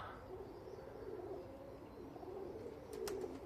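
English Tippler pigeons at a cool morning training session coo in low, rolling murmurs nearby, steady and moderately loud, with a faint higher chirp near the end.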